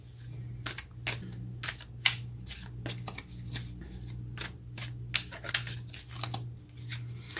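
Tarot cards being shuffled by hand in a quiet room, a long run of crisp, rapid riffles and flicks in irregular bursts at close range, with a low steady hum underneath and no talk.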